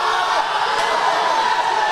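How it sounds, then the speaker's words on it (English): A weightlifting competition crowd roars in support of a lifter, a loud, dense, steady wash of cheering and shouting voices that fills the hall without pause. "you can hear all the support in the crowd for Jolie"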